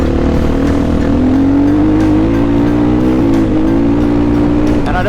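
A MOTOPRO 300 motorcycle engine braking, a loud, close, steady drone whose pitch slowly falls and wavers as the engine winds down.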